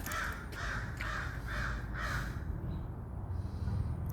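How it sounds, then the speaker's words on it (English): A crow caws five times in a steady rhythm, each call clear and fairly close, over a constant low outdoor rumble that continues after the calls stop. "Is there a crow?"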